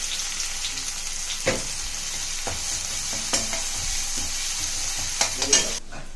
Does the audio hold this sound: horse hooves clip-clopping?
no